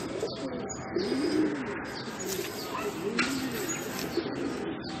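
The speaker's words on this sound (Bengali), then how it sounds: "মাদি পায়রা" A female Madrasi racing pigeon coos in low, repeated rolling calls at close range, with faint chirps and background noise around it and no clear talking.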